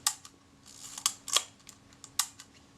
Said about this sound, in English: check the shutter release. That moves nice and smoothly.